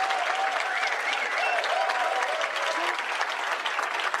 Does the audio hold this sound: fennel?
no